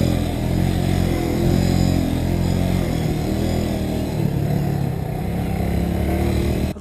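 A Kawasaki W175 SE single-cylinder motorcycle runs on a Marikina playground lap: a steady, close engine drone with slight rises and dips and a faint mechanical clatter, no voices.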